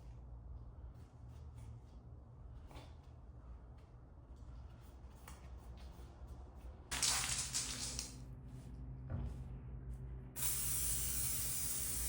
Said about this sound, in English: I'm about to go ahead and spray some of this wax and grease remover